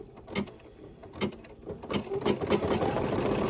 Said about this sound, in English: So now I think it's going to stitch the roof satin stitch